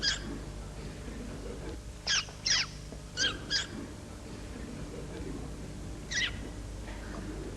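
A person makes short high squeaky calls imitating a zebra, a few quick chirps in pairs then one more after a pause, over a steady hiss.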